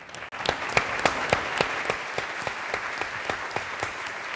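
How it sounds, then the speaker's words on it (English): Steady audience applause after a journalism ethics lecture, a dense even patter of many hands with some louder individual claps standing out, moderately distant and without talk. "a big round of applause for them"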